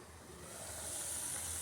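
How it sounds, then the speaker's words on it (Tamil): Quiet, steady hiss of steam rising from a pot of boiling water for cooking vermicelli, growing slightly louder over the brief stretch. "நல்லா தண்ணி கொதிச்சிருச்சு"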